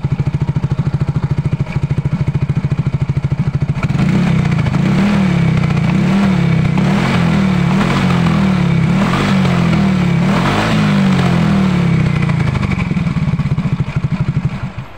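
A Yamaha Mio M3 scooter engine runs close and loud for the whole stretch after being repaired from a no-start fault, idling with a rattly throb, then revving up and down in repeated surges, no voices.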